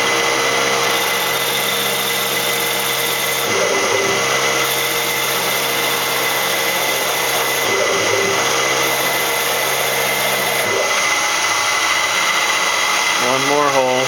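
A Rong Fu RF-45 CNC mill conversion drills a hole with a loud, constant machine whine, its pitch stepping a few times as the spindle and table move, with a voice over it.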